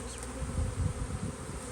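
A honey bee swarm gathering in open air below a trap buzzes steadily and densely up close, a continuous droning hum that swells slightly without pause.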